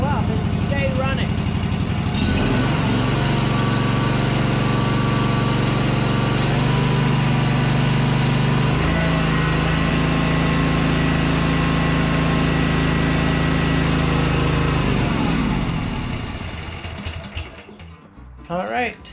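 A Yazoo Kees ZT Max zero-turn mower engine with a fault that makes it die out runs loud and close, revving up to a higher steady drone, holding it, then sputtering and fading near the end.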